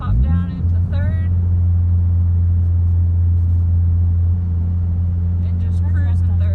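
Manual car slowing under braking and dropping into third gear, a deep steady engine drone with low rumble and a brief pitch shift near the start; a voice talks over it at the beginning and end.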